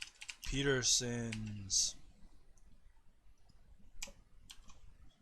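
A person speaks a single word, and then a few faint, sparse clicks of typing on a computer keyboard follow in a quiet room.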